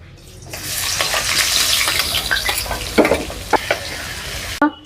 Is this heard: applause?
no